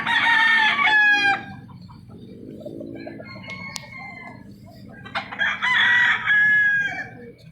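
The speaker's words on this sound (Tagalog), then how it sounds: "Maganda ng manok oh." Chickens on a rooftop crow and cluck close by, a rooster's crow opening and closing the stretch with softer clucking and bird chatter between.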